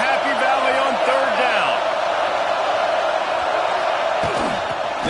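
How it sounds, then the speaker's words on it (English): A big stadium crowd at a college football game between Rutgers and Penn State in Happy Valley, a loud continuous roar that fills the whole stretch, with a commentator's voice and scattered shouts over it. "Here comes the noise from this big crowd in Happy Valley on 3rd"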